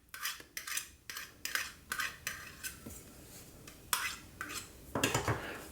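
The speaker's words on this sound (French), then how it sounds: "on n'hésite pas avec un couteau à retirer donc le surplus de pâte" A knife trims excess pastry dough from the rim of a metal tart mould, making a series of short, close scraping strokes in an uneven rhythm with brief pauses between cuts, and no talking.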